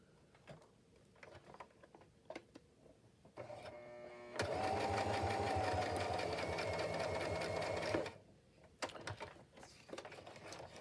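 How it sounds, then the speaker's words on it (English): A sewing machine runs a short burst of steady, rapid stitching for about four seconds on a 2-inch seam with a backtack, set between quiet handling noises in a crafting room. "I'm going to do a quick 2-inch stitch here."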